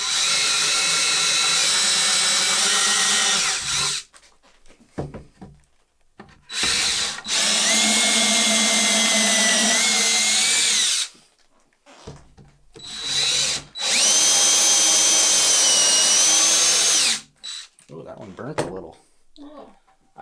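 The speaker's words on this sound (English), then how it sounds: "go back to our trusty drill bit over here and drill maybe 1/4 of an inch extra" A power drill bores an extra quarter inch into wood for a dowel while building DIY shoe shelves, three loud whining bursts of a few seconds each separated by pauses, with a voice heard in the gaps.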